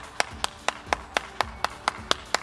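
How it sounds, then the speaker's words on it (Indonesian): A single pair of hands claps in worship at a children's online church service, about ten sharp, evenly spaced claps in quick steady rhythm, close and clear with no talk over them. "Tepuk tangan dulu buat Tuhan."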